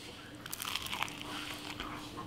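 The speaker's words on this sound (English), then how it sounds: "The only thing I hear crunching is on this bread right here, on the sourdough bread" Crisp crunching and crackling bites into crusty sourdough bread, close and fairly quiet, in a brief burst of irregular crunches.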